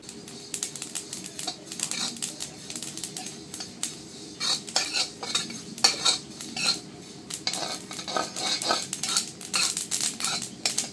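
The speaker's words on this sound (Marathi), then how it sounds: "आता आपण हे तीळ भाजून घेऊ।" Sesame seeds roast in a pan for a Marathi village-style yesur spice mix, giving a steady dry rustling and clinking as they are stirred with a utensil against the metal. The sound is close and continuous, and no one speaks.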